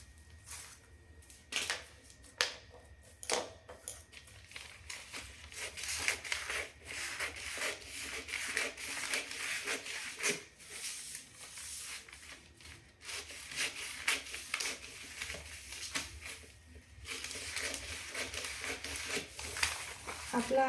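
Scissors cut through a paper pattern for a boatneck blouse, giving steady, close rasping and snipping with a few sharper clicks, continuous across the clip under a low background hum.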